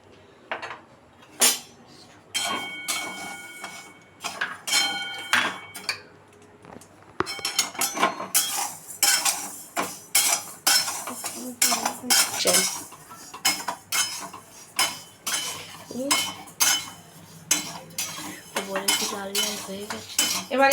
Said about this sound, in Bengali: এবার ডালটাকে আমি ভেজে নেব।